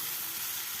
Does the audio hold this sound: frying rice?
yes